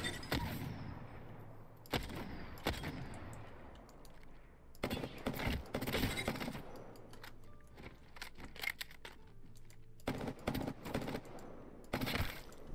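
Apex Legends Season 6 weapon at a very high fire rate, firing in short sharp automatic bursts separated by brief pauses, with a faint hum between volleys.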